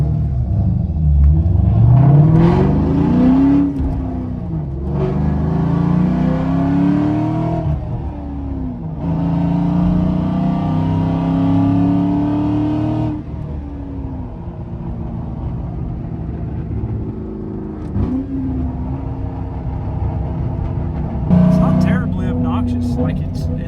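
Ford Mustang Mach 1 engine revs loudly in repeated bursts, each rising and falling, with deep rumbling idle between them, close by, with a voice briefly audible.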